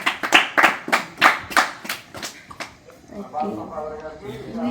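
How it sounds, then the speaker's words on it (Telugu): Children clap their hands in a Christmas skit, giving about eight sharp, evenly spaced claps in quick rhythm that then fade as voices start talking. "వెరీ గుడ్, క్లాప్స్ కొట్టండి."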